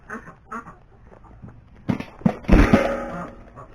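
Ducks at a farm coop quack in scattered, uneven bursts, a few faint calls early on and then louder, closer clustered quacks toward the end, with no talking.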